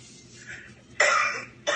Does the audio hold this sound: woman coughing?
yes